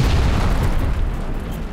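Massed artillery guns firing across a wide desert front, heard as a dense, continuous low rumble of overlapping booms that stays loud and steady without pause.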